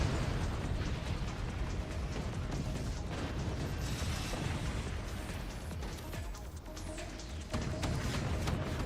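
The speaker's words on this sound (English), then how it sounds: "Death by drunk nuke. And self-inflicted secondary explosions." Nukes detonate in the RTS game Forts, setting off a dense continuous roar of explosions and secondary blasts, with rumbling bursts and crackling debris filling the whole stretch at steady loudness.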